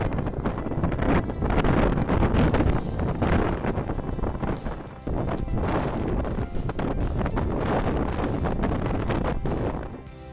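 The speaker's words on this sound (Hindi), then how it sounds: "जबकि हवा रात गुजरने के साथ साथ तुंद व तेज़ होती जाती है।" Strong wind at night buffeting the microphone at Kusak Fort in the Salt Range near Chakwal, a loud continuous roaring rush with gusty surges and brief dips, no voices.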